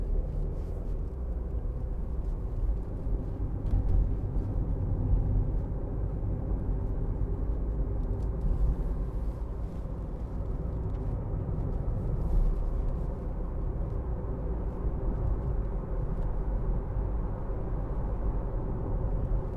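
Interior cabin sound of a 2015 Audi A1 1.4 TFSI Sport with S tronic gearbox driving around a roundabout: a steady low engine hum and road rumble, even and unbroken throughout, with no talk.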